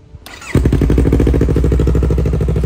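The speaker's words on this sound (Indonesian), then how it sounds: "kelihatan kan tadi gue cukup sekali starter aja langsung nyala nih motor" A 2018 Yamaha R25 sport motorcycle fires up on one press of the electric starter: a brief whirr and click, then the engine catches and settles into a loud, close, evenly pulsing idle.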